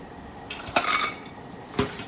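Fried curry leaf and spice mix is moved onto a plate, giving a few light clinks and scrapes of utensil on dish, with two distinct taps separated by a short pause.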